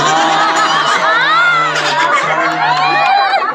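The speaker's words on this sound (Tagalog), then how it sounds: "the crowd is so noisy" A noisy crowd shouting and cheering at a comedy show, loud, continuous overlapping voices, whoops and children's shouts with bursts of laughter throughout.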